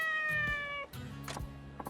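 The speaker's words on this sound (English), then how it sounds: "You're the most smartest, loyalist cat I ever did see" A cat in the video game Like A Dragon: Ishin! meows close up, giving a long tonal meow followed by a few shorter, fainter mews, with no talking.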